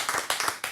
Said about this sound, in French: Applaudissements pour Marilyn,